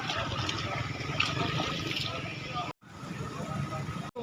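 Floodwater rushes steadily under close, continuous conversation, with a brief dropout near the end.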